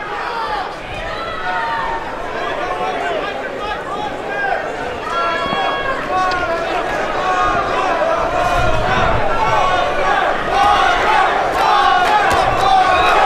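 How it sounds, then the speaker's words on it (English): A boxing arena crowd at a Golden Boy fight night cheers and shouts for a fighter in the main event's eighth round, a dense, loud roar that swells toward the end, with commentary under it. "Walter Santibañes has some fans here cheering him on, making noise for him."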